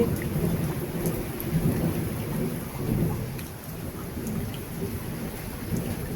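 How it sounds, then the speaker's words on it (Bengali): Heavy torrential rain pours steadily during a sudden storm, with low rumbling thunder rolling underneath; a dense, close, continuous downpour with no voices. "মুষলধারে বৃষ্টি হচ্ছে।"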